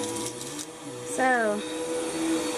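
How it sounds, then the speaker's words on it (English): A vacuum cleaner runs steadily in the back of a Walgreens store, a continuous whirring drone under a person talking nearby. "Can't hear me over this vacuum in the back"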